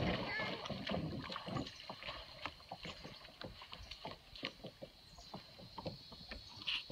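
A kayak paddling down a river in Texas gives off a steady series of soft splashes and drips as the paddle dips, close and quiet, with a voice partly audible over it.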